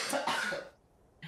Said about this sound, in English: God struck me down with that one with a cough